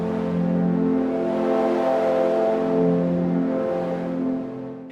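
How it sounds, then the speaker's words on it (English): Didgeridoo pad synth patch loaded in the Polymer instrument, a steady droning tone with a low buzzing fundamental and stacked harmonics that swell and sway slowly, held loud and continuous throughout without any talk. "So I've got this polymer instrument over here that's loaded up the didgeridoo pad that sounds like"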